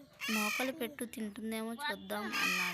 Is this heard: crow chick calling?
yes